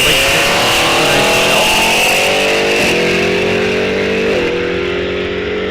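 A Camaro muscle car launches hard down the drag strip at Rock Falls Raceway, its engine screaming loud and close as it climbs through gear changes, with the pitch dropping briefly at each shift.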